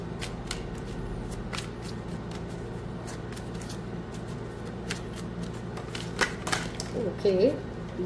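A tarot card deck is shuffled in quick riffling bursts with pauses between, crisp card flicks repeating close up, and a voice briefly speaking near the end.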